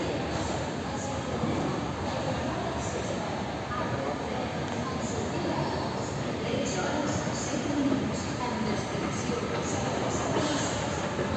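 Passenger train travelling from Lleida to Tarragona, heard from inside as a steady, loud rolling rumble with rail noise throughout, and a voice speaking over it.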